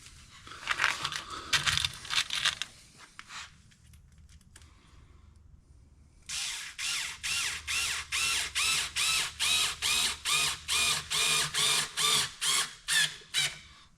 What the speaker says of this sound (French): ma visseuse à choc qui, elle, va vraiment rentrer plus fort dans le bois, plus profondément